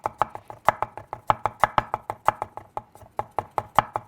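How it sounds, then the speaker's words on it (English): Ginger is chopped with a knife on a cutting board for a steak marinade, giving a quick, steady run of sharp close knocks, about five per second, with no voices. "Now we got to work on some of this ginger. You can grate it. You can do whatever you want. I'm just going to chop it"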